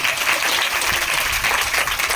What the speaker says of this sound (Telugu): చప్పట్లు కొట్టరే గట్టిగా